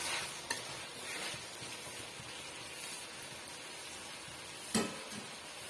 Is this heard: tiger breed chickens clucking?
no